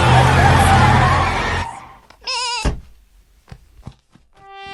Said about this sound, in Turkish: Oh hayır daha fazla keçi